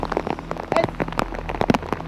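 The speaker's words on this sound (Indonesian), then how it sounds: "Apalagi hujan seperti ini" Heavy rain falls in a forest, a dense, close patter of drops striking leaves and surfaces without pause.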